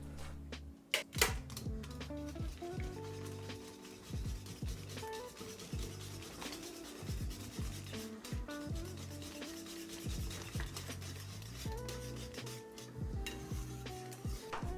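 Soaked oatmeal being worked into sourdough sandwich bread dough, heard as continuous close rubbing, squelching and scraping strokes with irregular rhythm, fairly loud and without speech.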